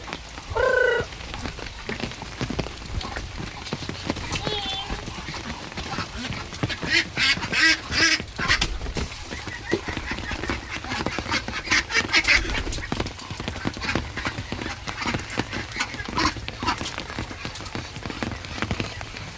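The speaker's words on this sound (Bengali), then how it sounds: "হাঁসগুলো দেখি সব ঘরের মধ্যে বসে আছে" Ducks quack in short bursts inside their shed in a Sundarbans village during the rainy season, amid scattered clattering and rustling, with occasional faint voices in the background.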